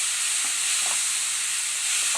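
Ground paste sautéing in a pan for chilli garlic rice, a steady close sizzle with light stirring scrapes throughout.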